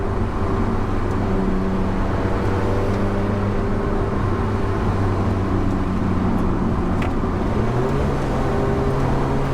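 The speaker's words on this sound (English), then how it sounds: "You can just hear the turbos whine, ready for power." An Alfa Romeo 4C Track Edition engine drones steadily from inside the cabin, with a turbo whine sitting above the low rumble as it pulls along.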